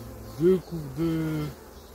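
Honey bees buzz around brood and nectar frames at an open hive during a swarm inspection, a close droning hum that rises in two swelling passes over a couple of seconds, no voices.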